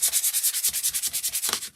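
Rapid back-and-forth strokes of 240 grit sandpaper on an engraved window insert, a close, even rasping rhythm of about a dozen quick rubs.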